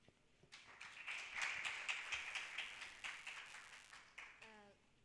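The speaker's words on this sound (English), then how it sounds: "Round of applause to her." Applause from an audience at a campaign launch event, a dense patter of many hands clapping that swells and fades over a few seconds, fairly faint and distant.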